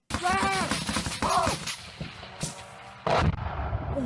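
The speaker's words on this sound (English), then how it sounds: "you see one of the explosions right here on the airfield" Several sharp, booming blasts from drone strike explosions at a military airfield go off at intervals, with voices talking excitedly between them.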